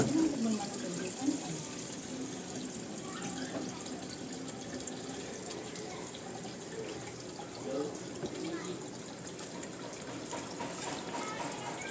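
Water poured and splashing during a dog's bath, a faint continuous trickle with small splashes and drips, under quiet talking voices.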